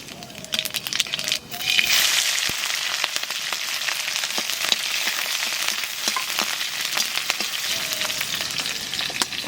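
Close, steady sizzling and crackling of nigella seeds and green chilies frying in hot mustard oil, with a few scraping clicks near the start.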